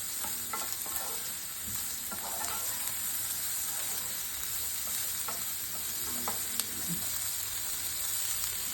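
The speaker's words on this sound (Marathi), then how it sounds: "कांदो जरा गोल्डन कलरचं होईपर्यंत परतायचं" Onions sauté in a pan for a coconut-onion masala paste, a steady soft sizzle and frying hiss with occasional stirring scrapes, close and fairly quiet, with no talk.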